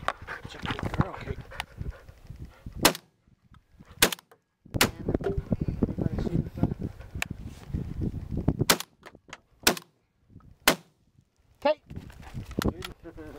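Sharp gunshots ring out on a hunt, several single cracks spaced seconds apart, loud against a background of people talking and a dog panting and moving nearby.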